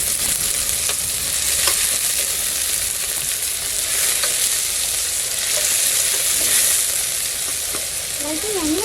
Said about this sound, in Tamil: வெங்காயம் வதக்கிறதுக்கு உப்பு உப்பு சேர்த்து நல்லா வதக்கி வச்சுக்கணும்